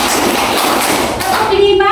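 A class claps hands together in a counted rhythm, dense loud claps and thuds close by, with children's voices mixed in.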